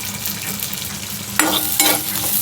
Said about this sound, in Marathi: लसूण आणि आलं भाजून घेऊया